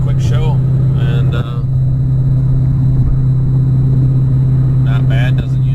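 A car cruising in sixth gear at about 1900 RPM gives a steady low engine drone and road rumble throughout, with someone talking over it at the start and end.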